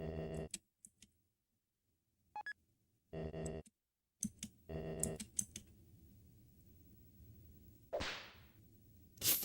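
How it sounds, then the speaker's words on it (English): In the video game Deltarune, scattered sharp clicks sound in bursts, then one swishing whip crack cuts through near the end. The sounds are close and crisp with quiet gaps between them. "clicking whip noise is really good"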